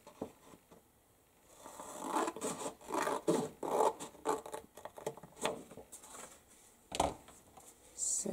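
Scissors cutting paper along a marked line while making a double pocket folder: close rasping, crunchy snips in irregular bursts, louder in the middle and with a sharp cut near the end.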